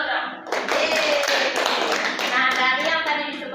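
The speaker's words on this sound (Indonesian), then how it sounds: "Tepuk tangan dulu dong." Classroom students burst into a round of hand clapping, many quick overlapping claps together that swell and carry on for a few seconds.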